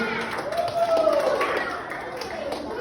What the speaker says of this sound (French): Si on peut applaudir pour Noah.